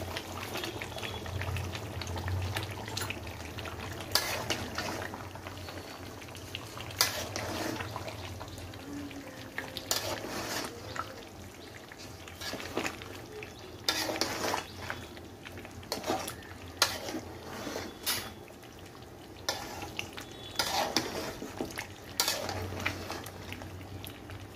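A curry is sautéed and stirred in a pan, with spoon scrapes and clinks against the metal over a soft steady sizzle, repeating irregularly throughout.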